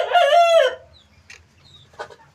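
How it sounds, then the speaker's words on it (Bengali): A Tiger breed rooster, over 80 days old, crows loudly up close, followed by a few faint, scattered clucks from the flock of Tiger chickens. "আমার সামনে যে মুরগিগুলো দেখছেন,"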